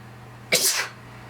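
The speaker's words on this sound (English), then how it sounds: "I'm gonna sneeze." A single sharp sneeze bursts out, loud and close, with a quiet hum underneath before and after.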